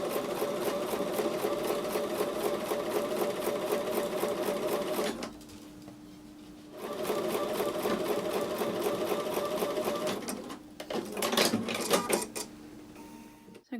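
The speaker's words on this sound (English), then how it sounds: "So I'm going to take those over to the sewing machine and sew with a 1/4 inch seam." A sewing machine stitches quilt block fabric pieces with a quarter-inch seam in fast, steady bursts, running for several seconds, pausing briefly, then starting again with a few short uneven runs.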